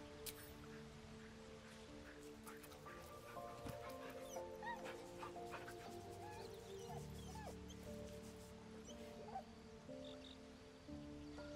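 Soft dog whimpers, yips and small whines from a good-boy dog in the Baldur's Gate 3 video game, heard over quiet game music and ambience.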